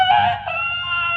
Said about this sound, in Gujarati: કળિયુગના કુકડા ગમે તારે બોલે.